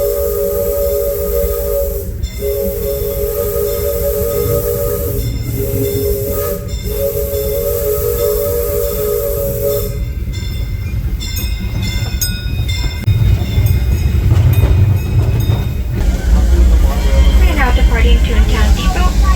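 Disneyland Railroad steam train rolling on its track, with a steady rumble and hiss under a recorded announcement voice, then rising clatter and mechanical noise as the ride continues, fairly loud and close.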